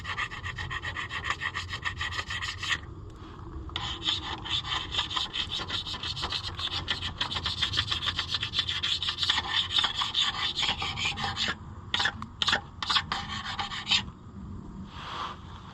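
Scraping leftover gasket material off an Oliver 1355 Heritage tractor, a close, steady rasping scrape that runs continuously, then breaks into short separate strokes toward the end.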